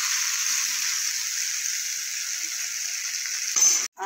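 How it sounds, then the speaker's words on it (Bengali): Eggplant frying together with potatoes in a pan for a vegetarian drumstick-flower chorchori, a steady close hissing sizzle, then a brief clatter of stirring and a short cut near the end. "বেগুনটা আমি এর সাথে ভালো করে একটু ভেজে নেব।"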